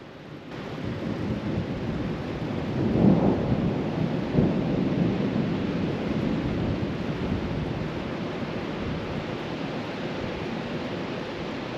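Deep, continuous rumble of thunder in a remote, steep hillside setting, swelling to a peak early on and then rolling steadily for several seconds at a fairly loud, even level, with rain-like noise and no voices.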